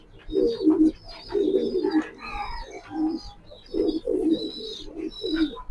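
Racing Maxi pigeons, a pair, coo in a steady run of deep throaty calls that repeat in rhythmic bursts about a second apart. They are close and clear, with no talking.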